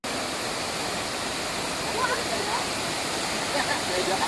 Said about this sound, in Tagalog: Wow, that's the waterfall.